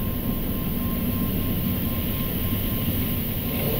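Boeing 737 MAX jet engines spooling at takeoff thrust during the takeoff roll, heard from inside the cockpit as a steady loud broadband roar with a constant whine, continuous with no talking.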